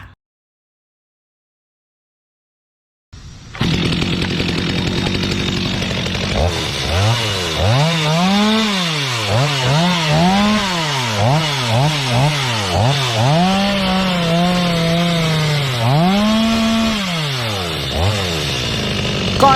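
A petrol chainsaw starts after a short silence, then idles and revs repeatedly in loud rising and falling surges, close and alone for about fifteen seconds.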